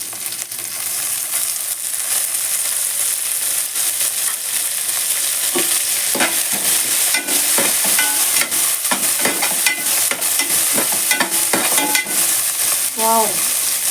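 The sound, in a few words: curry leaves and mint frying in a pan for eggplant biryani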